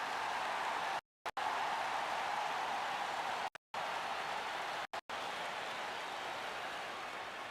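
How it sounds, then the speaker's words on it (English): A hockey arena crowd in the NHL 25 video game roaring and cheering, a broad continuous wash of noise with a few brief dropouts, steady and loud throughout. "Crowd is on their feet"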